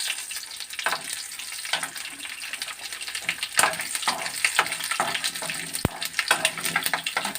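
Four or five cloves' worth of sliced garlic fry with tempering spices in oil, a close, steady crackling sizzle with intermittent stirring scrapes and a single sharp tap.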